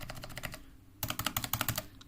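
Quick typing on a mechanical keyboard whose stabilized spacebar rattles, two close bursts of crisp clacking keystrokes separated by a brief pause, loud and near with no voices.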